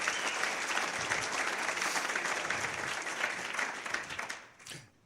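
Audience applause in a lecture hall, dense sustained clapping that holds steady and then tapers off and fades out at the end.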